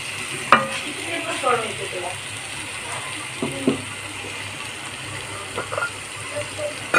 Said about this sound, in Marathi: छान तेलावर परतून घ्यायचं.